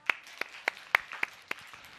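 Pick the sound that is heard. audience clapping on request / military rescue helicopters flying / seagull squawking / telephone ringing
audience clapping on request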